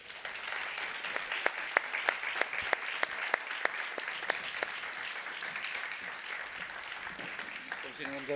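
Steady applause from a live concert audience for a singer, with a dense continuous wash of clapping, a few sharper claps standing out, and faint voices mixed in.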